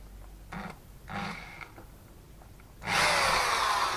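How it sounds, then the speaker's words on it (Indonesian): A power drill bores a second hole in a metal exhaust clamp being fitted to a 500cc tube, starting with short bursts of whirring and then settling into a loud, sustained grinding spin, up close with no talking. "Guys, kita bor yang kedua."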